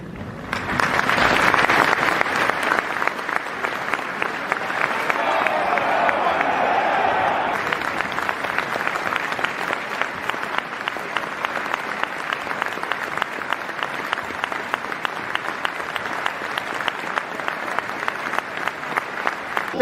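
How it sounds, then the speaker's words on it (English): A football stadium crowd gives a minute's applause, a broad roar of clapping that surges early and then settles into sustained, even applause from thousands of spectators. "We're going to remember him now with a minute's applause, which will begin and end on the referee's whistle."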